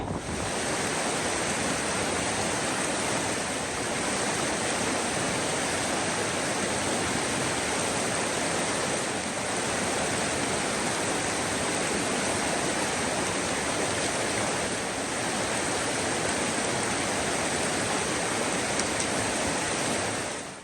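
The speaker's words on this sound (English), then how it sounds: "walk through a couple ice cold creeks that are knee deep" Rushing water of a knee-deep, ice-cold creek on a forest hiking trail, a dense continuous wash of flowing water and splashing, close and loud with no talking.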